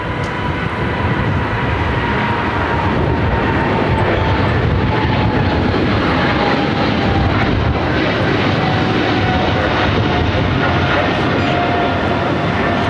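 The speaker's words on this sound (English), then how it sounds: "The flight to London Heathrow, the 777-300ER, flight 136, rolling down to 25 right." Boeing 777-300ER, flight 136 bound for London Heathrow, rolling for takeoff on LAX runway 25 right, a loud sustained jet roar with a slowly falling engine whine that fills the whole span.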